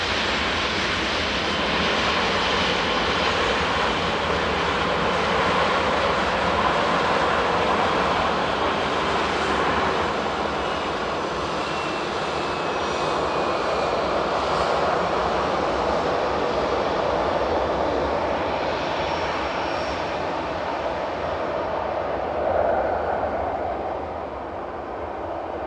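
Airliner passing slowly at Manchester Airport, a loud sustained jet engine roar that swells and holds for around twenty seconds, then begins to fade away.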